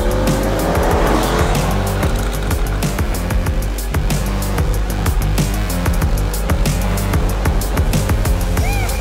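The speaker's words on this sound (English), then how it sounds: "a brutal 4-liter twin-turbo V8, pushing out that FI exhaust 760 horsepower" A Mercedes-AMG GT R's 4-liter twin-turbo V8, 760 horsepower, roars continuously at close range, loud and aggressive, with revving surges and tire squeal layered over the throaty rumble.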